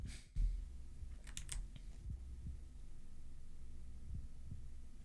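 A faint, low heartbeat effect from the visual novel Subarashiki Hibi thumps softly and slowly under a steady background hum. A brief crackle and some clicks sound near the start.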